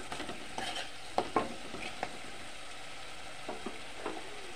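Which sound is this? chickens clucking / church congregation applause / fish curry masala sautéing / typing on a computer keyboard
fish curry masala sautéing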